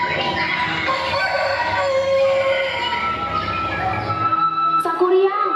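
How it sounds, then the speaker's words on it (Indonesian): A rooster crows amid a dense, busy mix of background sounds at a school stage performance of Sangkuriang, with music or voices layered underneath. "dan terdengar suara ayam berkokok"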